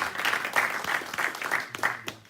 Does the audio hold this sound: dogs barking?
no